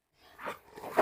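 A Dogo Argentino named Tyson gives two loud, close barks in quick succession after a short quiet start, the second bark sharper and stronger.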